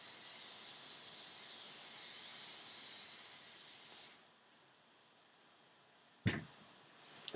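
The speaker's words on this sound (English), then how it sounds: "So all you need to do now is hairspray." Aerosol hairspray misted onto vintage victory-roll hairstyle, a steady hiss for about four seconds that stops abruptly, followed by quiet and a brief sharp knock near the end.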